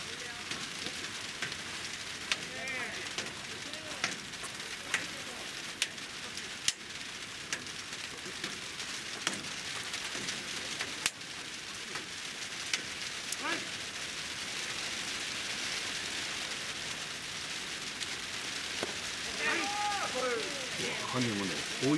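Steady rain hissing and pattering over an outdoor amateur baseball game at a park field on a wet day, a continuous wash of drops with occasional sharper taps and people talking faintly in the background.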